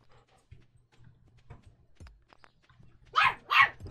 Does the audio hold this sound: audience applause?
no